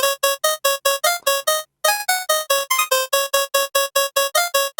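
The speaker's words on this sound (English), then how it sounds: "We have this TB pitch that is basically a synth with a lot of wavetables that may be used for like Nintendo shit and 8-bit stuff" Bright 8-bit style wavetable synth from the TB pitch plugin playing a quick melody of short, evenly spaced staccato notes in a steady rhythm, with one brief pause midway, clean and loud with no talking.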